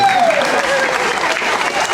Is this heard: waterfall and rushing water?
no